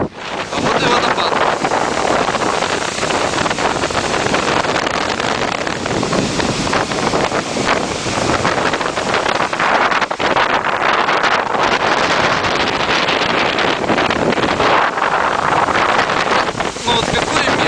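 Loud, steady rushing roar of a waterfall blended with heavy wind buffeting the microphone, continuous throughout with no pauses.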